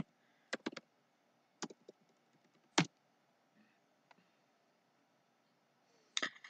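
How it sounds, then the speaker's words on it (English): Typing on a computer keyboard in a quiet room, a few short bursts of close, crisp key clicks separated by pauses. "So I just go to the search area and then type topo to raster."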